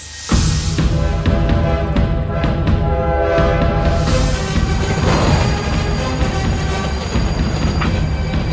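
A train arrives with a loud, sustained horn blast over a heavy rumbling of rail wagons, the noise close and continuous throughout, with no talking.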